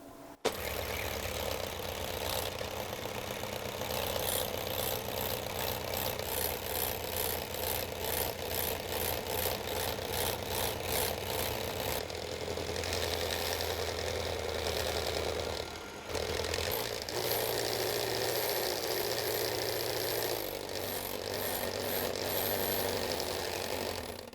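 An electric mixer runs at low speed whipping egg whites for macarons, giving a steady, close mechanical whir with a busy rattling texture. It dips briefly once and then keeps on with no talking.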